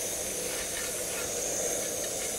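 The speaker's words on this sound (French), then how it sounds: "Le temps de faire revenir un petit peu mes oignons et ma pentade." Onions and guinea fowl browning under a lid in a covered pot, giving a continuous even hiss of steam and sizzle, steady and close with no talking.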